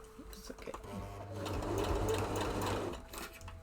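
A sewing machine runs one short continuous burst, stitching along a seam on a pair of shorts, with faint handling noises before and after, close and moderately loud.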